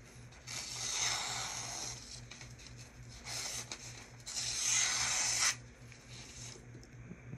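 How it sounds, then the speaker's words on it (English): A knife blade drawn across an 800 grit diamond plate on a Worksharp Professional Precision Adjust sharpener, giving repeated close abrasive scraping strokes in bursts with short pauses, over a steady low hum. "quick little 800 grit diamond finish edge off of the new Worksharp"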